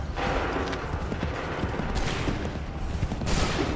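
Muskets crackle in a ragged volley during an Assassin's Creed 3 battle, several shots overlapping in quick bursts over a steady rumble of mechanical clatter and battlefield noise.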